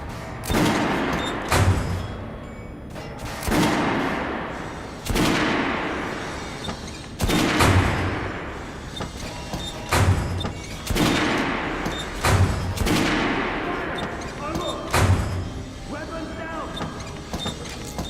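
Gunfire at a shooting range in the video game Metro Last Light, with loud repeated shots about every two and a half seconds, each followed by a decaying echo, over a steady background.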